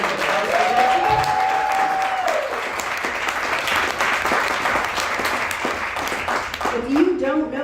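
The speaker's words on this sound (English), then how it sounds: "I'd like all of us to go huge round of applause for Reggie" An audience at a Busboys and Poets poetry feature applauds for Reggie Cabico in sustained, full clapping, with a speaking voice over it at the start and again near the end.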